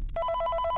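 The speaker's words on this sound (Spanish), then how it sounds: "Nos llama el tipo del teléfono." A telephone rings in a FNAF fan game, a close, clean electronic trill of rapid repeated pulses starting abruptly after a brief pause.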